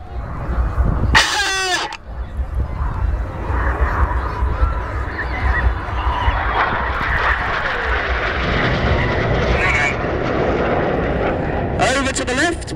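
Red Arrows BAE Hawk jet pitching up during an air display, trailing white smoke: a steady loud jet roar across the whole stretch with brief bursts of crowd or commentary noise, sharpening near the end.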